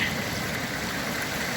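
A small brook or stream flows beside the sea at a beach, giving a brief, continuous hiss of splashing water that stays close and even throughout, with no talk.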